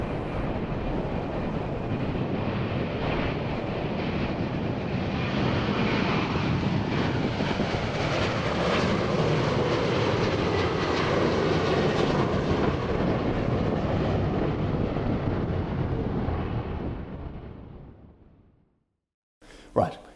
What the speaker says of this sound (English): It took off about halfway down the runway and flew into the distance.